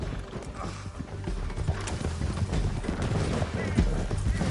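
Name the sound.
horse hooves galloping in a video game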